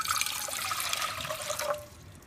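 Water is poured into a pot, two cups' worth, in a splashy, gurgling stream that runs close and steady for under two seconds before stopping.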